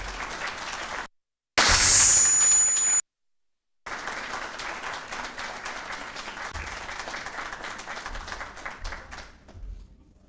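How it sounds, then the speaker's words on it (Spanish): An audience at a book launch in Chile applauds a speaker, with steady, moderately distant clapping from a room full of people that carries on for several seconds after two brief gaps. "Por favor, un fuerte aplauso para Horacio Giusto."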